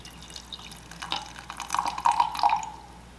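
Water pours into a beaker over dried apples with a stir bar, a steady close trickle that swells into bubbling gurgles as the level rises.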